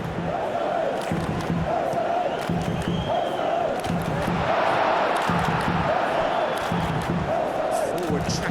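A stadium crowd in the PES 2021 football game keeps up a steady roar with rhythmic chanting, loud and continuous throughout.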